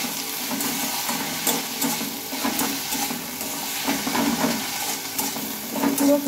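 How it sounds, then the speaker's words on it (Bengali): Red amaranth leaves cooking in a pan give a steady, close sizzle, with soft stirring and scraping rising and falling over several seconds and no voice. "লাল শাকটাকে একটু ভালোভাবে নেড়ে চেড়ে এটাকে রান্না করে নেব।"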